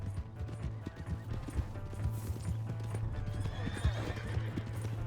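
In Red Dead Redemption 2, horse hooves clip-clop rapidly in a steady galloping rhythm while a horse neighs, with voices and a low engine-like hum underneath.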